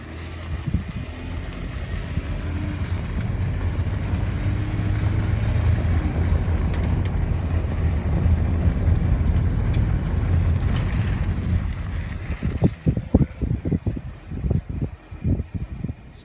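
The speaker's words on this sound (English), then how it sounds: "So this is just driving along this dirt road" A vehicle rolls along a rough dirt road strewn with washed-out rocks, giving a steady engine rumble with wind buffeting the microphone, then a stretch of sharp knocks and rattles toward the end.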